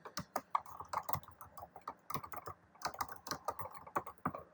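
Quick bursts of typing on a computer keyboard, close and crisp, with clustered key clicks separated by short pauses and nobody speaking.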